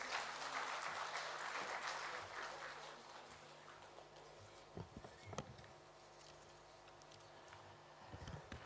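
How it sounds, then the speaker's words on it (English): Applause welcoming a speaker at a health conference, a quiet distant patter of clapping that fades, with a few louder claps and a faint steady hum behind. "Let's welcome him with a round of applause"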